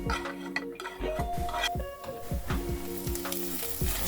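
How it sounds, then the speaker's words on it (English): Onion, garlic and ginger sizzle steadily in hot sunflower oil, with rhythmic stirring scrapes and light clinks of a utensil against the pan, close and fairly quiet. "I'm just going to fry these together with the onion, the garlic and the ginger."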